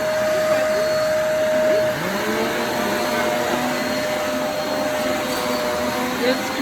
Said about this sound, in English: And the vacuum shaking a little bit on the bottom so that actually shake the dirt out and the dust out